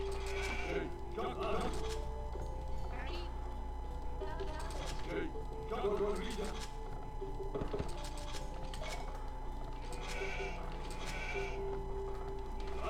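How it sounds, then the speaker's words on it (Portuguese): Sheep in Age of Empires 2 bleat in several short repeated calls spread across the stretch, mixed with game sounds under a steady hum, while someone talks over them in Portuguese. "Aproveitar pra pegar aquela ovelha."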